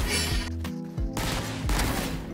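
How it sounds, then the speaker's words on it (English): Bulldog rifle firing in bursts in Valorant: a few clusters of quick, punchy shots with brief gaps between them, close and loud over a steady game background. "the burst fire of the Bulldog is extremely accurate"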